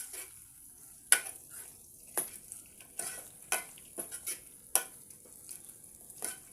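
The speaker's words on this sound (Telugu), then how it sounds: "ఇది బాగా ఒక ఐదు నిమిషాలు నూనెలోనే బాగా ఫ్రై అవ్వనండి" Fenugreek dal (menthi pappu) fries in oil, a soft steady sizzle broken by sharp scraping clacks as a utensil stirs the pan at irregular intervals, close up with no talk.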